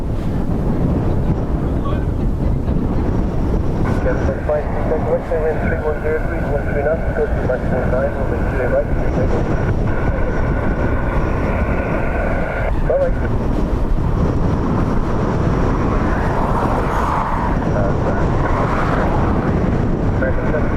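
An airliner takes off from Dublin Airport in strong wind: a steady, loud, broadband engine roar persists throughout, mixed with blustery wind buffeting the microphone.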